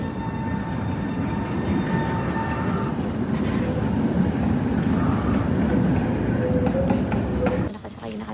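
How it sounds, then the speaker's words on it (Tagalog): Steady rumble and rattle of a moving train heard from inside a carriage in the Czech Republic, continuous and loud throughout before dropping slightly near the end. "Nakasakay na kami ng train."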